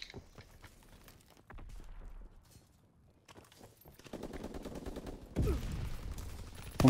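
Gunfire in a ranked match of a first-person shooter, in scattered bursts of shots mixed with footsteps and mechanical clatter, building louder toward the end.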